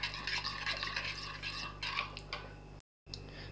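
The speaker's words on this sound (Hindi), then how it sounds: "अच्छी तरह हम सारे मसालों को मिक्स कर लेंगे।" A spice mixture for tandoori potatoes is stirred in a bowl, giving repeated close scraping and light clinking strokes with a short silent break near the end, without speech.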